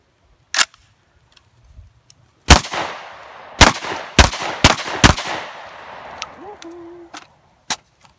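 Catamount Fury 1 semi-automatic shotgun, a Saiga 12 clone, fired outdoors in a quick burst of four or five loud sharp blasts with echoing tails, an earlier single shot and a lone later one.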